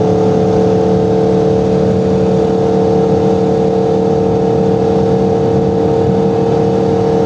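An Aprilia RSV4 Factory superbike engine with a redline above 12,000 RPM runs loud and steady on a gravelly road, a droning hum under heavy wind roar.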